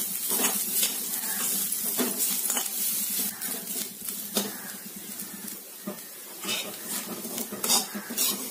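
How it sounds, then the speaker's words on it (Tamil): A pan of roasting ingredients for jackfruit halwa is stirred continuously, with steady scraping and clinking over a soft sizzle, close up, and a voice speaking faintly at times. "இத லேசா செவக்க வறுத்து எடுத்துக்கலாம்."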